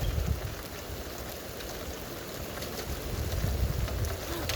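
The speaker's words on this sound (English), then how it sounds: "Oh, there comes the rain." Rain starts falling during a severe thunderstorm, a steady close patter and hiss of drops with low gusty rumbles swelling and easing. No voices.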